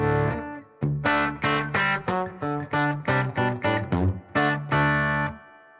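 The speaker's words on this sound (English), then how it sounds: "show you how the Jimmy knob affects the tone of this amp." Distorted electric guitar through a Fat Jimmy Gigmaster 35 tube amp plays a quick riff of separate picked notes and chords, loud and close with a saturated, crunchy tone.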